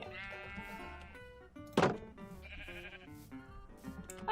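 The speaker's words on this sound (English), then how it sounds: "Okay, so we have 2 sheep" Sheep bleat in modded Minecraft with a couple of wavering calls over soft background music, while someone speaks briefly.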